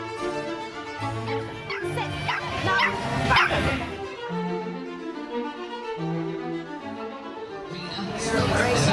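Dogs at an adoption event with a raffle bark, yip and whimper in repeated bursts close by, some high and excited, others lower, over a background of crowd chatter.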